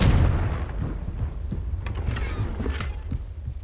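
A Confringo blasting spell in the Hogwarts Legacy video game bursts with a heavy boom, followed by scattered sharp cracks and rumbling impacts over a few seconds.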